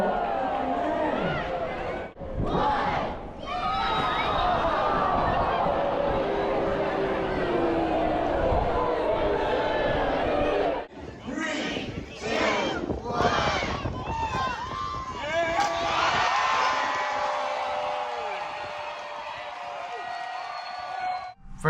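A crowd on a Royal Caribbean cruise ship cheers and shouts at a belly flop competition, with loud bursts of yelling and excited voices rising and falling, plus some nearby talk and a countdown.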